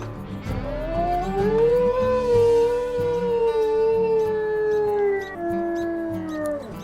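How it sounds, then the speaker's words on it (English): A wolf howl from the video game WolfQuest: Return of the Pack, one long, clear, rising and wavering call held for several seconds over a low droning game background, loud and close. "So he has a little bit of a quirky howl, kind of pretty."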